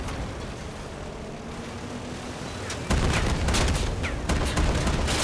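Cannons fire in a robot combat video game, a dense burst of booming shots that erupts partway through after a quieter rumbling stretch, loud and close with several sharp reports.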